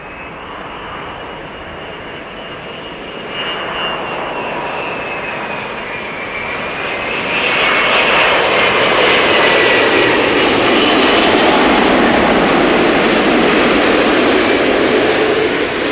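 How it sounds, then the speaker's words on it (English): An Emirates Airbus A380 lands at Amsterdam Schiphol, its jet engines building from a steady roar to a louder, broad rumble that swells and holds near the end, heard alone without talk. "Let's listen for the reversers in a moment."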